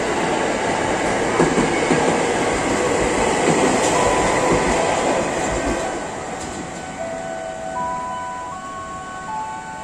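An eight-car commuter train bound for Bogor rumbles and clatters loudly nearby, then gradually slows and quiets, with a sustained tonal squeal toward the end as it pulls into Pondok Cina station at night.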